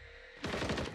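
Gunfire in Call of Duty Warzone (MW3): after a short quiet hum, a sudden loud burst of rapid automatic shots rattles in quick succession and runs to the end.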